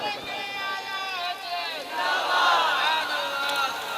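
A crowd at a naat recitation gathering shouts back in unison in answer to a slogan. Voices start layered and swelling, then rise into a louder, denser roar in the second half that stays loud to the end.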